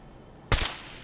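A single sharp gunshot in Fallout 4, fired at a turret: one loud, close burst after a quiet lead-in, with a short ringing tail.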